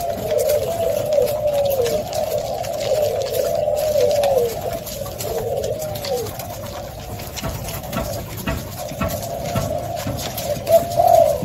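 Two male cooing doves in a bird enclosure call steadily throughout, soft repeated coos layered over a rough, constant background hiss.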